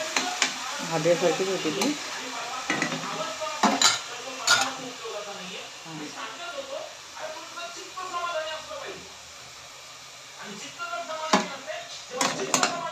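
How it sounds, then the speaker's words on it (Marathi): Onion paste with garlic and ginger fries in a pan under a low sizzle as a spoon clinks and scrapes against the metal, with intermittent talking over it. "कांद्याची पेस्ट छान परतून घ्यायची आहे."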